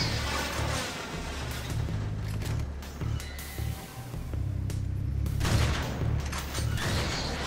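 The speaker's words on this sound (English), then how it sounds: "Shotgun doesn't exactly have range" Booming shotgun blasts in the Wrack shooter, several heavy shots spaced a second or so apart over a rumbling, noisy game soundscape, loud and close.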